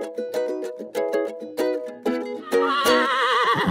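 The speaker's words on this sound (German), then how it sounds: "Das ist Cori, wie ich gerade erfahren habe, ein ausrangiertes Rennpferd." A retired racehorse neighs loudly and close by, a series of shrill, wavering whinnies repeating several times in a row with no other sound.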